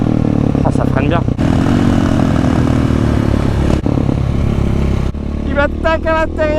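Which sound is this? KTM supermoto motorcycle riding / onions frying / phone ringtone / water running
KTM supermoto motorcycle riding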